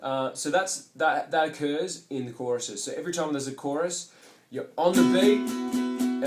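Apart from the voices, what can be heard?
No distinct noise like a dog, phone or traffic.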